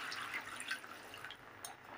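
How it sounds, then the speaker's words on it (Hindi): Water poured into a pot of cooking brinjal and potato sabzi, a soft splashing trickle with light bubbling and sizzling, faint and close, no talking. "अब इसमें हम पानी डालेंगे"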